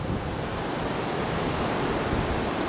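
Strong wind roars steadily through a park in cold weather, a dense, unbroken rush of noise buffeting the microphone with no voices.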